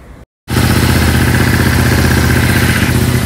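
A Ducati Monster motorcycle engine fires up after a brief silence and settles into a loud, steady, throbbing idle close by.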